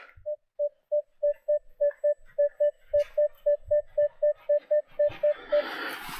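A Minelab Equinox 900 metal detector sweeps a Cossack settlement site, giving about twenty short, identical beeps in a steady, even rhythm. A burst of rustling noise takes over at the end.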